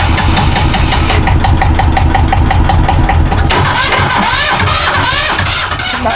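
A small boat's engine cranks with a rapid knocking chug, then catches and settles into a loud, close, steady running rumble.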